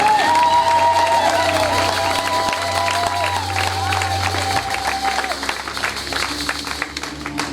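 A church congregation applauding and cheering during a service, steady loud clapping and crowd noise with voices mixed in, while sustained organ or keyboard tones hold underneath before fading.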